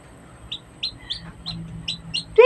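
A baby chick peeps in a quick run of high, thin chirps, close and fairly soft, ending in a louder, rougher squawk, with a faint low hum behind.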